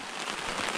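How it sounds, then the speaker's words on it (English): Steady rain falls outdoors beside a river, a dense, even hiss of drops pattering nonstop on surfaces, close and fairly loud throughout with no voices. "it is raining on us, and it's raining pretty good"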